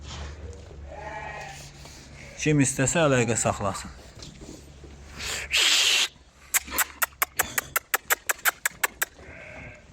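Young pregnant first-lamb breeding ewes of the Tatalı breed bleat repeatedly in a pen, several loud close calls mixed with someone speaking, followed by a quick run of sharp clicking or tapping sounds.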